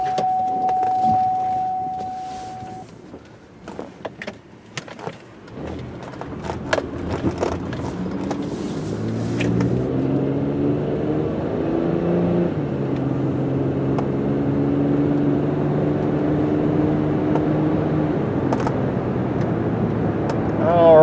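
2002 Buick Rendezvous FWD heard from inside while driving, starting with scattered clicks and handling noises, then engine hum and road noise building as the vehicle accelerates, with gear changes audible, steady and moderately loud to the end.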